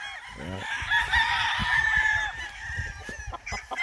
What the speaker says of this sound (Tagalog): Ayan mga manok natin dito.